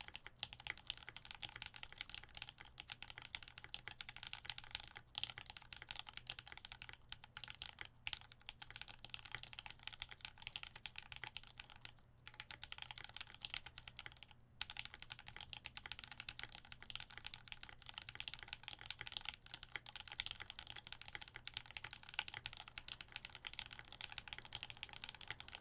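Steady typing on a budget mechanical keyboard build, a dense, continuous stream of quiet clicky keystrokes close up with only a few brief pauses and no talking.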